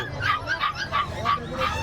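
A dog yips and barks in a quick run of short, high calls, several in a row, fairly close, with some whimpering quality, at an outdoor pet market.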